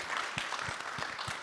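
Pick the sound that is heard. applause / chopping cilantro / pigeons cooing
applause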